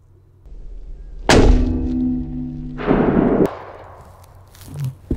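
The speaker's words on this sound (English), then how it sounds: "I'm going to shoot center mass." A 7.62x51 full metal jacket rifle round strikes a Level III armor plate, giving a sudden heavy boom with a ringing tail, followed by a second rough burst of noise about a second and a half later.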